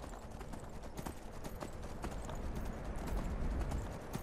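Horse galloping in the Skyrim video game, a rapid continuous run of hoof clip-clops on open ground under a steady wash of game ambience.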